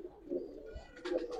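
Giribaz pigeons at a seller's loft in Old Dhaka give soft, low coos. A short murmuring call rises, then a quieter bubbling coo follows. The birds sound fairly faint against light background noise.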